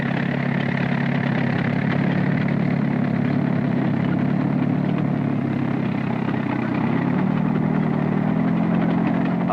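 Tractors racing in a 1953 Australian tractor derby, a continuous loud droning engine roar with steady low rumble and no breaks, no voices over it.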